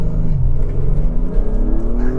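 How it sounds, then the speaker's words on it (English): An Acura MDX Type S turbo V6 pulls hard under acceleration with traction control off in Sport Plus mode, a loud, rising engine drone heard from inside the cabin with low road rumble. "I like the sound from that turbo V6"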